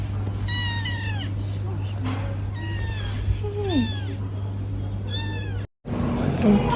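A cat meows several times in a row, close and clear, with rising and falling cries. A steady hum runs underneath, and a person speaks softly nearby during a grocery-store outing in Turkey.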